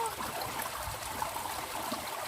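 A running stream, a continuous gentle rush and trickle of water nearby at an even level throughout, with no voices.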